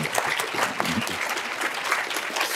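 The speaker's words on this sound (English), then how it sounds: "would you join me in giving a round of applause to our three presidents, President Rougeau, President Richardson" Brief applause from a seated audience at a university presidents' roundtable, steady moderate clapping with no pause, fairly distant and soft.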